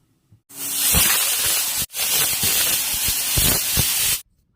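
Loud, steady steam hissing from a pressure cooker boiling potatoes in water, two long whistle bursts separated by a brief break, close by with no voices.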